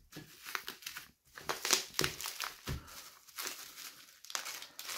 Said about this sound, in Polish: Otwieramy powolutku, żeby nie pouszkadzać.